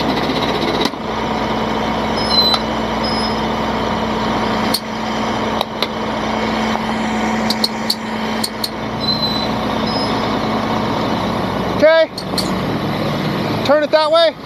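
A truck engine roars steadily as the vehicle pulls out of a snowbank on an ice road, with continuous loud rumble, intermittent clanks and a couple of rising whines near the end.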